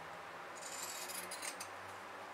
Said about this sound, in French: je vais prendre mes ciseaux cranteurs et je vais enlever tout l'excédent de tissu autour